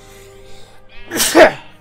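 A single loud person's sneeze bursts out near the end after a quiet, faint game-music background, close to the microphone, during a Minecraft gameplay session.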